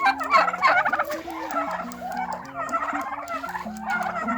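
Several turkeys gobble in repeated, overlapping bursts with warbling calls, fairly close and loud throughout, a flock kept at a farm with no talking.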